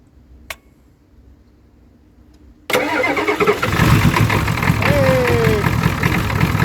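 A near-silent pause with one click, then a 1990 Ford F-250 7.3 diesel cranks on a cold start and catches abruptly, settling into a loud, rough idle with voices underneath.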